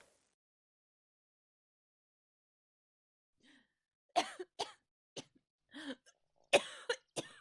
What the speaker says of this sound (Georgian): ახველებს, ეთყობა ავად გახდა